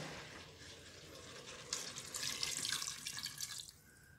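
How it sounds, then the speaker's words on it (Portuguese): Hot water is poured into a pot of beef shank for a cassava-root broth, a soft splashing pour that rises after a quiet start and runs steadily for a couple of seconds before tapering off. "eu vou estar acrescentando água quente até cobrir aí a panela"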